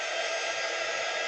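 Hot-air gun blowing a steady, loud, even rush of air at close range, used to heat a place-card decoration for a Christmas table, with no pauses or voices.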